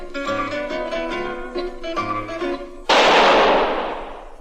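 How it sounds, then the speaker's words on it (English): A gunshot in a radio drama, a single loud burst that follows zither music and fades out over about a second and a half. "That was the shot that killed Harry Lime."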